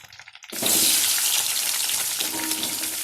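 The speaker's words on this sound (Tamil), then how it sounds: "பெரிய வெங்காயம் தக்காளியை வந்து நம்ம அதில் கத்திரிக்காய் வதங்குறதுக்குள்ளே இதையும் வதக்கிடுவோம்" Sliced onions and tomatoes hit hot oil in a clay pot already holding brinjal, bursting into a loud, steady sizzle after a brief quiet start, with faint stirring clinks underneath and no talking.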